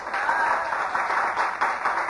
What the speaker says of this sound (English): Clap your hands and say, thank God.